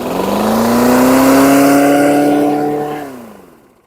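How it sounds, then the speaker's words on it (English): A 2004 Toro Recycler lawn mower in a runaway condition revs hard and high, its engine whine climbing steadily and holding loud for about three seconds before abruptly dropping off as it is shut down. "A lot of smoke, and we had a runaway engine."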